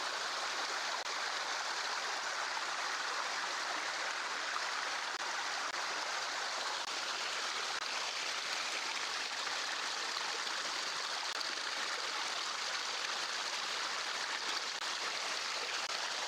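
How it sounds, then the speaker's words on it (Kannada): Steady, even rush of stream water flowing near a hidden waterfall in a forest, a continuous broadband hiss with no pauses, fairly soft and heard alone. "ಇವತ್ತು ತಾನೇ ನೀರು ಹರಿತಾ ಇದೆ"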